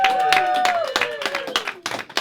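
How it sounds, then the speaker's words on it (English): Comedy club audience applauding and cheering in a room, clapping and voices mixed with someone speaking over the crowd. "Don't applaud too much though"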